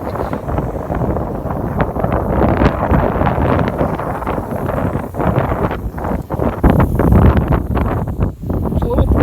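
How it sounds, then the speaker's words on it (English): Wind from Hurricane Elsa blowing hard into the microphone, a loud continuous roaring buffet that surges and dips throughout. "It's a little breezy right now"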